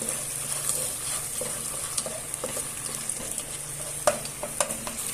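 Tomato sauce being stirred in a pan at home, a soft steady sizzle with occasional scrapes and clicks of the spoon against the pan, close and fairly quiet.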